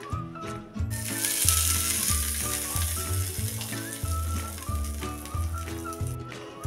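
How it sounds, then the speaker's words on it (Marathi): Hot tempering of asafoetida, mustard seeds and curry leaves is poured over a chutney, giving a steady close sizzle that starts about a second in and runs under louder background music. "ह्याच्यावर आता आपण हिंग, मोहरी आणि कढीपत्त्याची फोडणी ओतून घ्यायची आहे"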